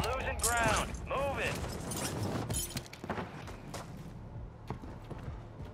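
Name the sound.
gunfire in a video game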